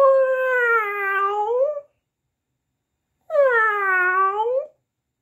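Two long, wavering cat meows, each lasting close to two seconds and separated by a silent gap, loud and close with a rich harmonic tone.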